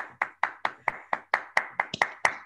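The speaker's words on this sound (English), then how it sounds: "So I see lots of hands clapped." Clapping heard over a video call, a single close pair of hands striking in an even, brisk rhythm of about ten claps, each crisp and distinct.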